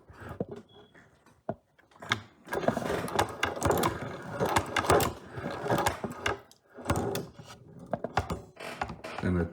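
Cheap Chinese shoe patcher sewing machine stitching leather: a rapid, close, rhythmic mechanical clatter running for most of the stretch, with a person talking over it.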